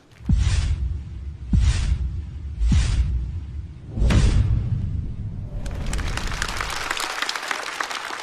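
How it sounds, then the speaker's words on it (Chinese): Four heavy, booming thuds land at steady intervals. Then a stand-up comedy show audience breaks into broad, even applause that carries on to the end. "来，各位，掌声送给风欣彤"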